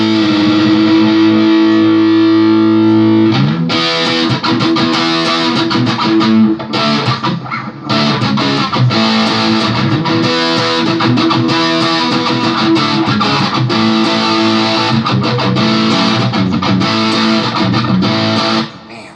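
Harley Benton SC450 electric guitar, modded, played through heavy distortion: a sustained chord opens, then loud, dense riffing with chugging palm-muted hits and ringing chords runs nearly nonstop until a sudden stop near the end.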